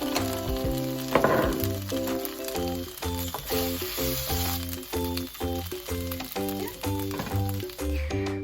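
Sausages sizzle and crackle in a pan, a steady hiss beneath loud, rhythmic background music.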